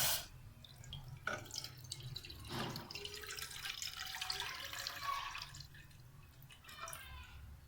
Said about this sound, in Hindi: हमने इसमें दूध डाल दिया